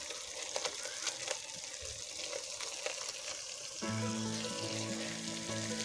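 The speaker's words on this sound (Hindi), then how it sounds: "अब इसे अच्छे से मसाले को भूनेंगे।" Spice masala roasts in a pan for an egg curry, with soft scraping and crackling at first, then a louder and steadier sizzle that settles in for the last couple of seconds.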